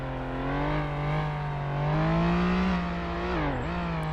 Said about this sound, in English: Here's a car.